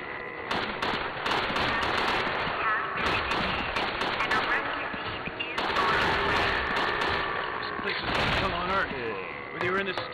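Rapid gunfire from Resident Evil Darkside Chronicles, steady bursts of shots running through the whole stretch alongside game sounds and speech.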